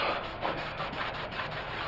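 Steady, soft rubbing strokes in a quick repeating rhythm as a rag wipes fresh paint off a 1970s–80s Dodge truck close by.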